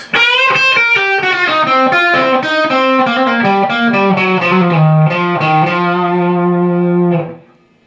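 A distorted electric guitar plays a closing lick, a quick descending run of bent and picked notes, ending on a sustained held note that fades out.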